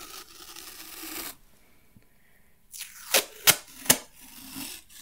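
A roll of tape handled near the microphone, first a long rustling stretch, then a pause, then three sharp crackling rips and snaps close up with no voices.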